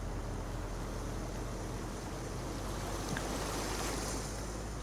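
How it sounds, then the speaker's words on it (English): Continuous rushing water flows beneath a bridge in the Farming Simulator 19 game world, a steady broadband wash filling the scene with no talk over it. "You can hear the water running as well as you come through."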